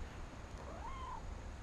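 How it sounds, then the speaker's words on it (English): A single short meow from a cat outdoors rises and falls, faint and somewhat distant over a steady low background rumble. "I hear a kitty outside"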